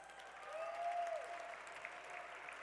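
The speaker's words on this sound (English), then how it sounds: "let's give him a round of applause" Audience applause for Questlove at an awards event, a soft, sustained wash of clapping heard from a distance, with a faint voice briefly over it.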